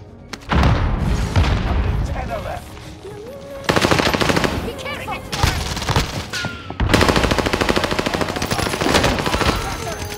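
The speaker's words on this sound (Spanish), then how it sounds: "Espérate, granada. Hostia, la granada." Heavy gunfire and a booming grenade blast in Call of Duty: Warzone Pacific, dense bursts of machine-gun fire in three loud stretches separated by brief lulls, with a player speaking over the action.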